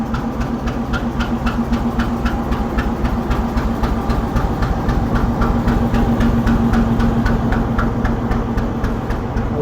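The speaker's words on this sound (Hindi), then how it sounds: "ये रहा लोकोमोटिव बिल्कुल हमारे सामने, RG 25102, जो कि हमारी ट्रेन को आज हॉल करेगा" Diesel locomotive RG 25102 idles close by with a loud, steady low throb and a rapid rhythmic knocking that continues evenly throughout, with no one talking.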